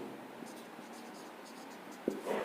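Chalk or marker scratches across a board while a flowchart is drawn, a soft continuous scraping in a quiet room with a sharper tap near the end.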